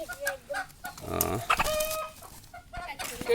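Crested hill chickens clucking at close range as they are put into a cage on a farm in the Khagrachari hills, with short bursts of bird calls and rustling among brief pauses.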